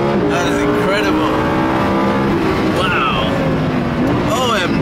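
A Lamborghini sports car driven fast in Dubai gives a loud, continuous engine roar with rising gear sweeps, heard from close by under excited talking.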